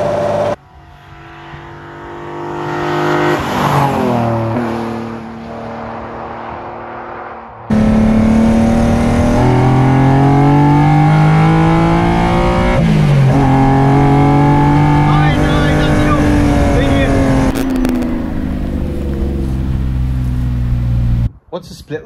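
A BMW 3.5 CSL engine, driven hard, rises through the revs with a loud rasping tone, drops briefly, then holds a strong sustained pull with shifting pitch, close and dominant, with voices under it.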